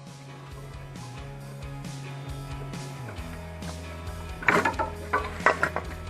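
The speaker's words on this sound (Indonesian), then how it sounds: "kita langsung saja buka kedua bautnya ini" Bolts on the oil filter housing of a Toyota Avanza being unscrewed with a ratchet, quiet clicking and metallic working noises close by, rising to a few sharper clicks near the end over faint background music.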